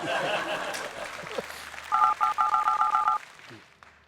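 A mobile phone keypad beeps out a quick run of about seven evenly spaced dialing tones, loud and close, after a stretch of voices and faint laughter.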